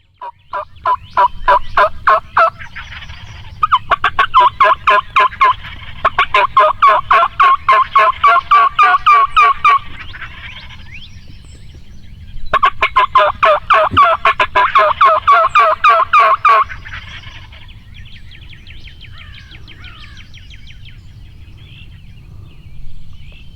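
Wild turkey toms gobble in rapid, repeated bursts, loud and fairly close, with several overlapping calls in two long bouts and quieter gaps between, during Kentucky spring turkey season.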